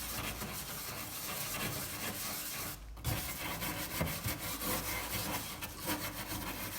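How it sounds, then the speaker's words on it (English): A soft copper bristle brush scrubs rivets on an old metal chest being stripped, giving a loud, continuous scratchy rasping with repeated strokes and a brief pause partway through. "Now again, the soft copper bristle is going around these rivet."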